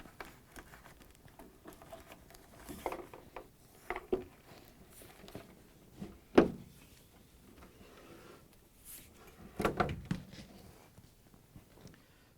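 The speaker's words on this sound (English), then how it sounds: "now we can easily pull the gasket out of the door" An old rubber door gasket being pulled out of a Whirlpool refrigerator door, with soft scattered rubbing, peeling and creaking noises and a few louder tugs and knocks, close and fairly quiet.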